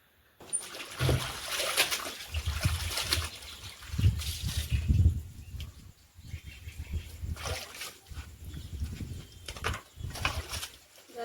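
Water from an overflowing village pond, used for washing clothes and swollen after two days of heavy rain, rushes and splashes nearby. The flow is uneven and dips briefly, with a faint bird call in the background.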